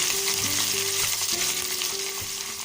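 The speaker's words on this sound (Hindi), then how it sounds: "अब हम इसमें अदरक लहसुन और सब्ज मिर्चों का पेस्ट डाल देंगे और इसको हम थोड़ी देर भूनेंगे।" Ginger, garlic and green chili paste frying with browned onions for chicken chana dal, heard as a brief, dense, steady close sizzle with a faint hum beneath and no talking.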